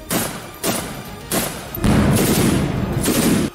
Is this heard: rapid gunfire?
yes